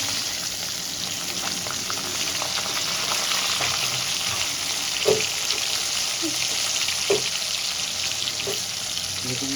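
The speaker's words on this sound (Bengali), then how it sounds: "এবার উল্টে দিয়ে ওই পিঠটা সেম করে ভেজে নেব।" Pieces of catla fish fry steadily in hot oil, giving a continuous close sizzle with a few soft clinks and stirring knocks scattered through it and no talk.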